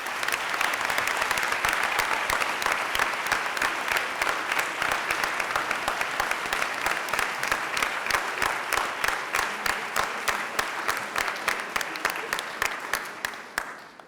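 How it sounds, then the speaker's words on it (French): Steady audience applause for the participants of a staged mock trial, a long even stretch of many hands clapping that fades out at the very end. "on vous invite à les applaudir encore bien fort"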